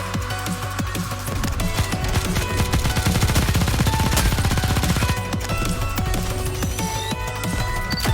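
Rapid automatic gunfire from a snowy battle in the Nikke: Goddess of Victory video game, steady sustained bursts rattling on loudly with dense music and effects beneath, no voices.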